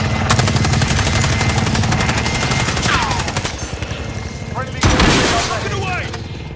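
Heavy, continuous automatic gunfire in the video game Modern Warfare: Warzone, loud and close, with rapid rattling bursts broken by a couple of sharper booming shots near the end.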